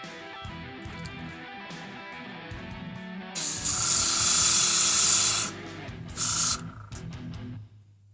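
Airbrush being back-flushed during cleaning: a loud, close, steady hiss of air lasting about two seconds, followed by a brief second burst, over quiet background sounds.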